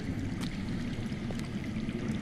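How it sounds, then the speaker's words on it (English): Underground water flows in a Game of Thrones video game, a steady low rushing and gurgling that stays even and continuous throughout with no speech. "I hear water. From underground."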